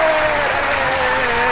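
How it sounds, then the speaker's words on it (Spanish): A crowd applauding loudly and continuously for a brief moment, dense clapping with a voice speaking over it. "Así que un aplauso para"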